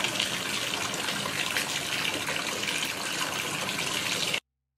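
Water gushing from a tap into a bathtub, a loud steady splashing rush that runs continuously, then cuts off abruptly near the end, with no talking.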